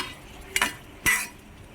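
Onions and salt being stirred in a cooking pan: two short, close scraping swishes about half a second apart, with quiet pauses around them.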